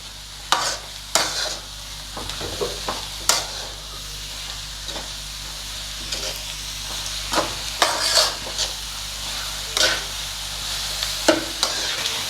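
Cabbage for a Kerala sadya-style thoran sizzles steadily in a pan, broken by repeated scraping strokes of a spoon as it is stir-fried, close and without talk.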